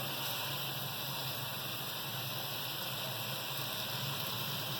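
Korma masala frying in a pot for Delhi-style degi chicken korma, a steady, even crackling hiss that carries on without a break for the whole stretch, close and fairly quiet.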